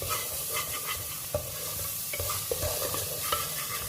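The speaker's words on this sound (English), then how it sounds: "Give it a stir." Salted vegetables stirred in a hot pan for a chicken rice casserole, with a soft, steady sizzle and a few light scrapes from the spoon. Quiet, close, and with no voices.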